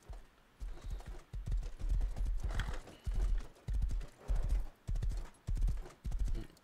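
A horse in the video game Rust clip-clops along in steady, evenly spaced hoofbeats, with a brief neigh among them, loud and close.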